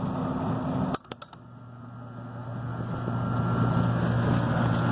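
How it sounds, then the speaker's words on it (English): An air conditioner compressor kicks on after the heaters shut off, a few sharp clicks followed by a steady low mechanical hum with a tonal drone that slowly builds in loudness and keeps running alone. "So our heaters are off and our compressor is now on."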